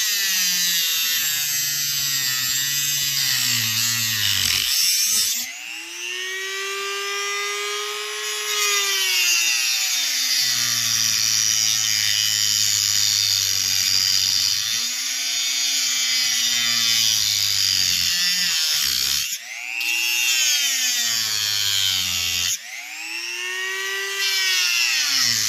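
A power drill works through McCulloch SP125 chainsaw components in repeated runs. Each run is a sustained, close, whining grind that sags under load and speeds back up, separated by a few short pauses. No talking.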